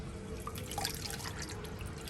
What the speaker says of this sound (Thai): เราเริ่มเทน้ำลงไปเลยนะครับ น้ำเปล่านะครับ